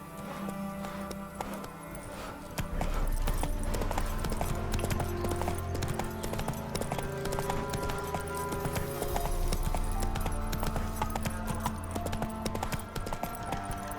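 Roach, the horse in the video game The Witcher 3: Wild Hunt, gallops with a rapid, steady clip-clop of hooves that runs throughout alongside game music and ambience.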